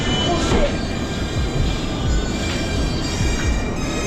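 Rumbling New York subway train in Queens with low mechanical roar and occasional higher squeals, steady and fairly loud throughout.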